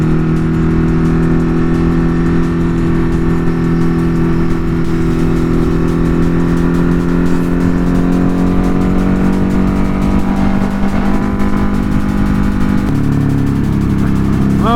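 Ducati Hypermotard 950 RVE motorcycle cruising on a highway, a loud, close engine drone with steady harmonic tones and heavy wind noise, pitch shifting slightly as the rider changes speed.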